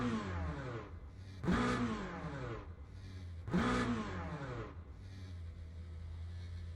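A Corvette GT3 race car engine in the Le Mans Ultimate racing game revs twice in sharp, loud surges and then drops back to a steady idle drone, with no talk.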